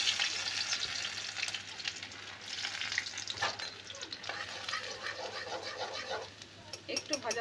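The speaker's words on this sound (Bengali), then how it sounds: "প্রথমে আমি তেলের মধ্যে আদা কুচি দিচ্ছি" Finely chopped ginger fries in hot oil, giving a continuous crackling sizzle broken by scraping stirs, close by and fairly steady throughout.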